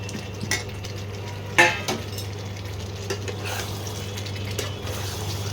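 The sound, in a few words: fried potatoes added and stirred into chicken masala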